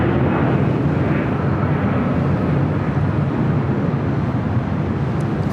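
A UPS Boeing 767-300 freighter arriving at LAX gives a steady, loud, broadband jet roar that holds constant throughout, with no talk.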